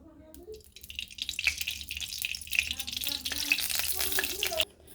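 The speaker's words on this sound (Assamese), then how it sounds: "এতিয়া মই এড কৰিছোঁ সৰিয়হ তেল।" Mustard oil poured into a hot kadai for an Assamese tenga fish curry, a rising sizzle and crackle that holds steady for several seconds before cutting off, with faint background hum and no talking.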